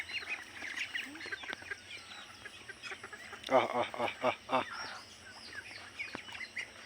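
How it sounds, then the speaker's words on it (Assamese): Ducks on a small duck farm quack in a short, quick cluster of calls, fairly close and moderately loud, while a person repeatedly calls out to them over quiet farmyard background. "হাঁহবিলাক"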